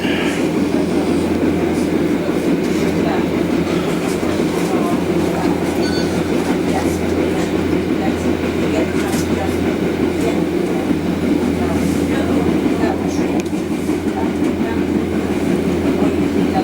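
A train on the Andalsnes-Bjorli line in Norway rumbles steadily along the tracks, heard from inside a carriage, with a continuous low roar and faint rhythmic clatter throughout.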